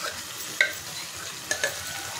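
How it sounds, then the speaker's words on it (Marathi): Cooked vegetables stirred into a masala in a pan, with a faint steady sizzle under a few sharp utensil clinks against the pan, close by and with no voices. "आता ह्याच्यामध्ये आपल्याला काय करायचं, आपण ज्या भाज्या शिजवून घेतलेल्या आहेत ना त्या टाकून घ्यायच्या"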